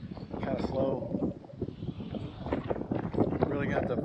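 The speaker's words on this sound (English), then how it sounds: "it's super windy" Strong wind buffets the microphone outdoors while fishing, a steady low roaring rumble that runs the whole time without letting up.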